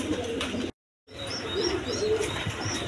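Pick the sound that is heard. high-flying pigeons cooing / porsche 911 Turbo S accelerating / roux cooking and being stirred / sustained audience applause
high-flying pigeons cooing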